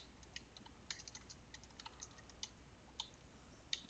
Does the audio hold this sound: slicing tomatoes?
no